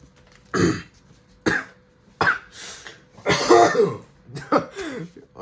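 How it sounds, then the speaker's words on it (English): Repeated harsh coughs close by, several separate bursts spaced with short pauses, the later ones clustered and more strained. "That was a crazy cough."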